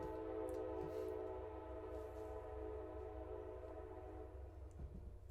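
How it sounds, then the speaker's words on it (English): A train rumbles steadily past with a continuous low drone and faint horn-like tones, sounding somewhat distant and muffled throughout. "Train going past."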